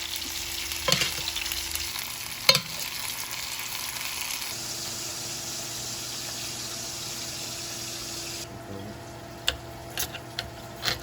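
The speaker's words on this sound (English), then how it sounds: "Baste the steak." A boneless ribeye steak sizzles steadily in a pan while being basted, the frying hiss close and continuous with a few sharp spoon clinks and spatters, easing slightly near the end.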